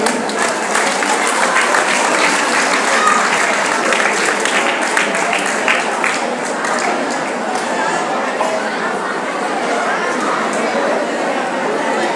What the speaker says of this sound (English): Please give a round of applause for Sir.